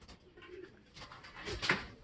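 A racing pigeon coos softly nearby in a few short, throaty bursts, the last one the loudest, with no talking.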